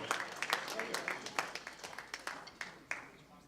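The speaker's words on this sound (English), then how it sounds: "How about a nice round of applause for one of our main mentors, John Flowers" A crowd applauds a mentor at a Civil War troopers event, a steady patter of many hands clapping at moderate distance, with a voice or two mixed in.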